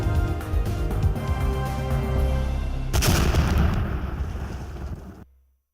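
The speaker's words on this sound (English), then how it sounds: "Was that a gunshot? no, just an explosion." A loud explosion bursts out in the background during a live news show, a broad booming blast that rumbles on for a couple of seconds before cutting off.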